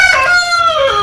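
A rooster crows nearby, a loud, drawn-out call with a wavering pitch and no other sounds.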